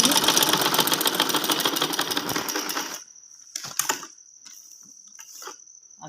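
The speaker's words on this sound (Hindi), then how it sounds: "यहाँ से हम इसको इस तरह से सीधे से सिलाई कर लेंगे।" A sewing machine stitching fabric strips for trouser hems runs with a steady rapid mechanical chatter for about three seconds, then stops, leaving a thin high hum broken by a few short clicks and handling noises.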